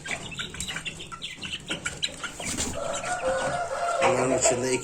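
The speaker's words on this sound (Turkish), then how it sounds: "iki tane horoz var" A rooster crows nearby amid clucking chickens and general farmyard noise, the crow rising toward the end.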